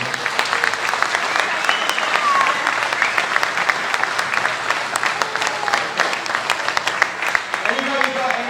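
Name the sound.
audience applauding racer James Toseland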